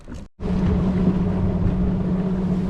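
A fishing boat's engine idles steadily on Lake Guntersville in winter, a low, continuous hum with wind buffeting the microphone, after a brief dropout near the start.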